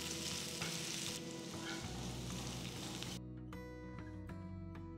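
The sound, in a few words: onion, green chillies and curry leaves frying in pan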